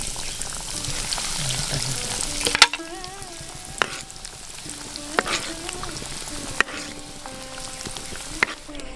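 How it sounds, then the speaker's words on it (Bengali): Egg chops deep-fry in hot oil with a continuous crackling sizzle, broken by sharp clinks of a utensil against the pan at irregular moments, and faint voices in the background. "বাদ বাকিগুলো আমরা ঠিক এইভাবেই ভেজে নেব।"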